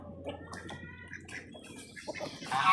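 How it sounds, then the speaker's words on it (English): Roosters cluck and squawk in a brief fight, with sharp, agitated calls rising to a louder burst at the end. "Oh, the roosters got into a little tussle."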